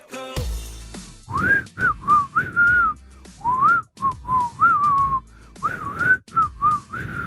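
Someone whistles a lilting tune in short phrases with brief pauses between them, close and clear, with no talking.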